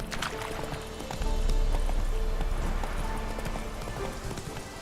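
A horse gallops in a Witcher video game, its hooves beating a rapid, rhythmic clip-clop that swells louder after about a second and carries on steadily to the end.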